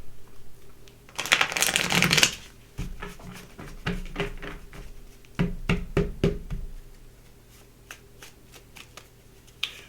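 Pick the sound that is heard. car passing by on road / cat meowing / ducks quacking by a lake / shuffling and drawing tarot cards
shuffling and drawing tarot cards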